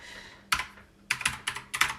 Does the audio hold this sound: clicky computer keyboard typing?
yes